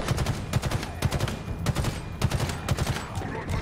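Automatic gunfire in a Halo match, rapid repeated bursts of shots in quick rhythmic clusters, near and loud, with brief talk faintly underneath.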